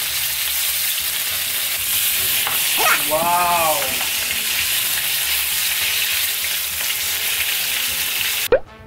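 Convenience-store beef steak cuts, chuck flap and striploin, sizzle and fry loudly and steadily in a hot pan, with one brief spoken exclamation partway through.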